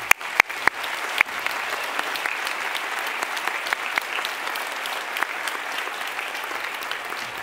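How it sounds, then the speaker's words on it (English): Sustained applause from a graduation ceremony audience, dense steady clapping with a few sharp louder claps near the start, filling the hall without talk. "So please join me in a round of applause for them."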